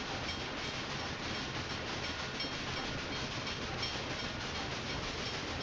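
Train running in the Railway Empire 2 video game: a faint, steady rolling hiss of wheels on track with a light rhythmic clatter, continuous and unbroken.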